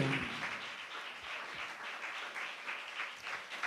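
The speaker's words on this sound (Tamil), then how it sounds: "நல்ல கைத்தட்டி ஆண்டவருக்கு நம்ம நன்றி சொல்லுவோம்" A congregation claps together in thanks to the Lord at a church gathering, a steady crackling wash of many hands throughout, moderately loud with no talk over it.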